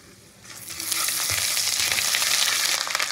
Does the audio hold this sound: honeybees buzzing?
no